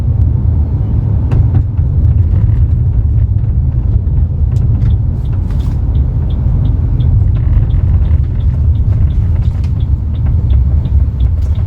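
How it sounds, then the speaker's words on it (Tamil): A Toyota Urban Cruiser Hyryder drives on a highway, heard from inside as a loud, steady low road-and-engine rumble with faint ticks and rattles throughout. "இப்போ காரை நம்ம ஹைவேக்கு எடுத்து போய் இதோட பர்ஃபார்மன்ஸை நம்ம பார்க்கலாம்."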